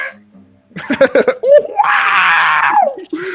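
A person vocally imitates the R2-D2 droid's scream during a tabletop role-playing game: a burst of choppy vocal noises, then a loud, sustained, wavering electronic-style shriek, close and intense.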